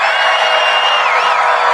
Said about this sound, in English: A big, beautiful crowd.